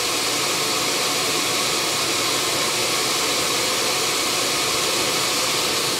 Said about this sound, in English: Shop vac is pulling about as much as the engine going down the road